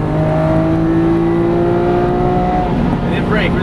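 A Lamborghini Aventador accelerating hard on a racetrack, a loud sustained engine roar with rising pitch before an upshift near the end, heard from close by inside the car.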